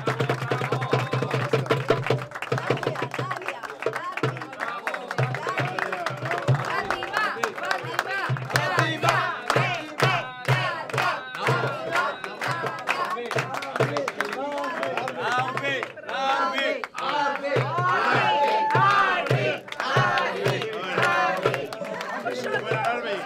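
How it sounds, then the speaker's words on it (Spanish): Party crowd at a New Year's Eve celebration in Tangier clapping and cheering for the catering staff, a loud sustained burst of hand claps and shouts over music and chatter. "Venga, un aplauso para el equipo."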